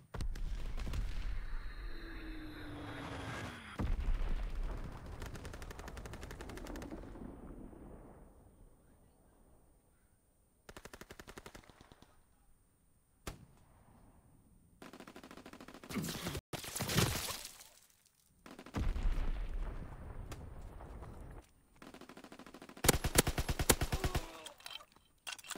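Primary battery guns of a naval ship in a multiplayer video game, firing in several sharp, loud bursts separated by quieter stretches, with a deep rumble trailing some of the blasts.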